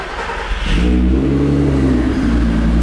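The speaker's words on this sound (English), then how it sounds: "Start this thing up. You know these are like the best sounding engines." A six-cylinder car engine with a Haldex system, slightly modified, starts up in a private workshop, with a starter burst followed by a loud, steady low idle rumble that settles and holds close by.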